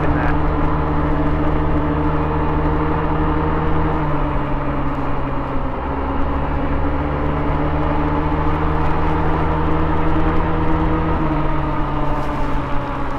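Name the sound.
Honda Ruckus scooter riding out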